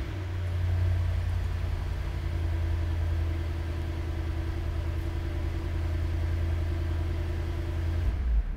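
A Mercedes-AMG engine runs after a plain start without the emotion-start flare, holding a steady low idle rumble, close and fairly loud, that cuts off near the end.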